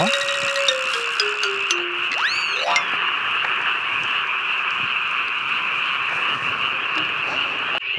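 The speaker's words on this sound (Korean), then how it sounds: "진짜 개구리 소리 때문에 미치겠습니다" Dense, loud chorus of frogs croaking continuously beside a reservoir during crucian carp fishing, a steady pulsing din that fills the whole clip, with a brief electronic chirp and tone early on.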